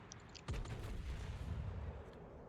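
Naval guns fire a full salvo in the World of Warships video game, a single deep boom followed by a low, rolling rumble that fades out.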